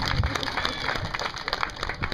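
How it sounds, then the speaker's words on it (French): Audience clapping at a children's literature award ceremony in Houndé, Burkina Faso, a dense burst of hand claps filling the moment, fairly loud and steady. "Beaucoup d'applaudissements"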